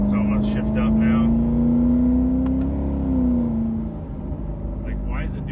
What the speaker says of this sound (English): that transmission would rev up like that and then shift, or then down and then up